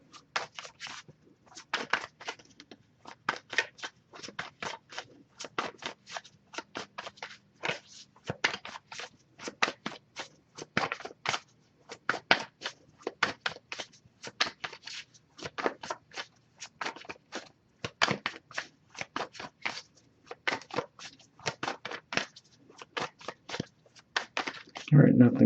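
A tarot card deck is shuffled in a steady run of rapid, crisp riffles and flicks, close and fairly quiet, continuing without a break for a long stretch.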